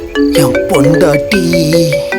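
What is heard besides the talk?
phone ringing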